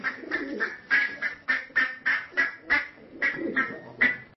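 Synthetic duck quacks and pigeon coos repeat in a steady rhythm of about a dozen short calls, close and fairly loud, with no other sounds behind them.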